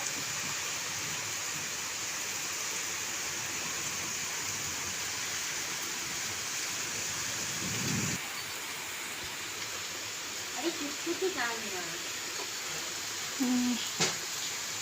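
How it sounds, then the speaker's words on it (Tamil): Steady rain falls on an evening in a home village, a constant even hiss that fills the whole stretch, with a few brief voices and small knocks near the end. "இங்கிட்டலாம் சரியாக மழை பெய்கிற மாதிரியே தெரியல இங்கே தான் நல்லா தெரியுது"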